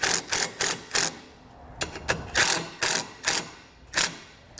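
Screws driven in to mount a wiring bracket on a 2017 Subaru: a series of close, sharp mechanical ratcheting clicks and whirring bursts in an irregular rhythm, with no talking.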